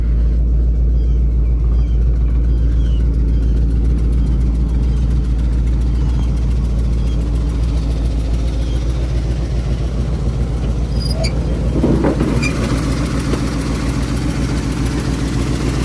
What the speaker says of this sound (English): Got a 350 Chevy in it.